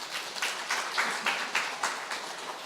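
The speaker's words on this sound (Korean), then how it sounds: "박수 한번 더 쳐주세요." A short burst of applause from a lecture audience, many hands clapping in overlapping bursts, fairly close and steady throughout.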